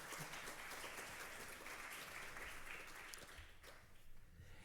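An audience at a cinema lecture applauds, a steady wash of many hands clapping that thins slightly toward the end, heard at a distance and fairly quiet.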